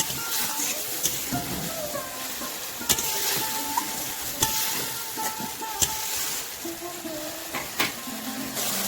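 Rohu fish curry masala with turmeric and a little water, stirred in a pan, sizzling steadily with sharp spoon scrapes and knocks against the pan at intervals, close and moderately loud.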